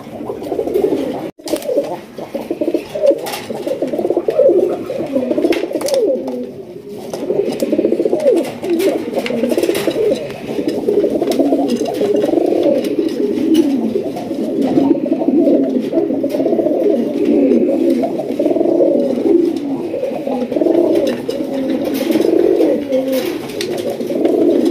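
Large red Raj Golla pigeons coo continuously in a cage, a dense, throaty burbling chorus close by, with one sharp click near the start and no speech.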